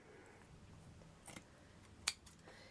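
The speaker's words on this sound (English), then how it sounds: "I'm just going to cut a section off it." Scissors snip through a gathered fabric doily, a couple of quiet, brief cuts close by, with one sharper crisp snip near the end against a faint background.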